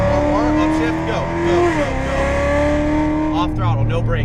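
A Corvette Z06 Stingray on a racetrack pulls hard after an upshift, its engine note climbing in pitch, dipping at the gear change and rising again, loud and close, with a voice talking over it.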